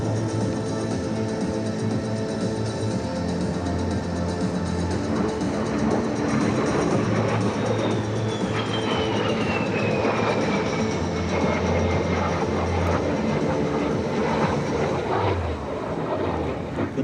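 A MiG-17 jet fighter roars steadily overhead at an air show with a continuous broadband rumble and a slowly falling whine, loud throughout with no voices.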